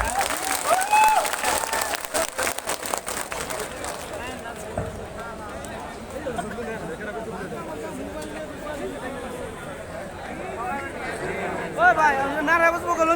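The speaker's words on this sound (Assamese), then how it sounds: "ৰিহান আহমেদ আৰু ছফিয়া আহমেদৰ বাবে হাত চাপৰি।" Applause from a crowd at an election meeting at Goraimari Town Club, a sustained mass of clapping that runs the whole stretch with background chatter and voices mixed in.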